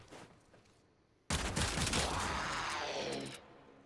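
A burst of shotgun fire from a secondary weapon in the video game Warframe starts abruptly after a quiet lead-in and then continues as a loud, dense roar of rapid shots for about two seconds before cutting off.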